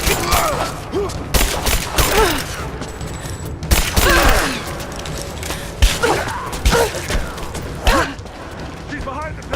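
Dense, rattling suppressing gunfire in a Rise of the Tomb Raider firefight: overlapping bursts crackle continuously while voices shout over the shooting.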